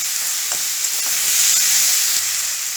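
Tomatoes sautéing in oil in a pan for spicy chicken karahi give a loud, steady frying hiss that runs unbroken, with a few faint stirring knocks beneath it and no voices.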